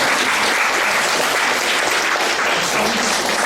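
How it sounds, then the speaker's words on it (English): An audience at a panel discussion applauds, producing dense, steady clapping that is loud and sustained throughout without a break. "We can applaud her."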